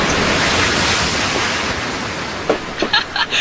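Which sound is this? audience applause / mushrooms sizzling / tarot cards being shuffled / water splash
water splash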